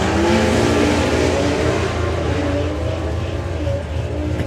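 Drag racing cars run up the strip at a doorslammer event, their engines roaring loudly and continuously with tyres chirping under the noise, heard from trackside.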